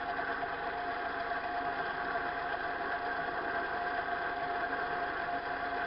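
A metal lathe taking a light spring pass on a spring housing part, a steady, even machine hum with a faint tonal whine that holds constant throughout, moderately quiet and without speech.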